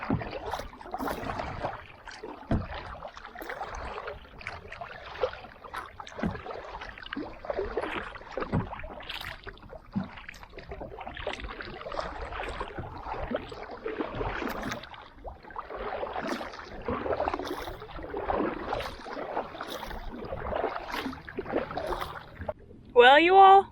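Kayak paddle strokes splash and drip in water at a steady rhythm on Umbagog Lake in fall, with faint wind and a person talking over it.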